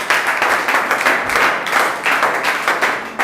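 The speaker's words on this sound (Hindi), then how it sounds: "अनीता के लिए तालियों से स्वागत हो जाए" A classroom of students breaks into dense, steady applause to welcome a classmate named Anita, loud and close, the clapping sustained for several seconds with no talking over it.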